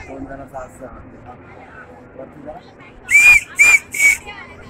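A child whistles through a seashell at the Konkan coast, giving three short, shrill, loud blasts in quick succession after a stretch of quiet background voices and shuffling.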